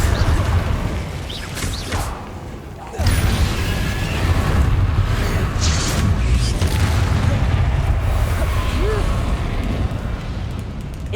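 Confringo spell blasts in the Hogwarts Legacy video game, loud booming explosions over a dense rumbling battle bed, with a player talking over the action.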